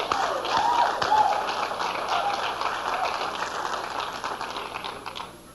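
Seminar audience claps in a steady, moderately loud patter that carries on for several seconds, with faint voices and a few squeaky chirps mixed in before it tapers off.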